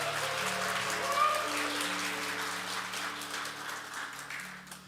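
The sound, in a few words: congregation applause of encouragement in church service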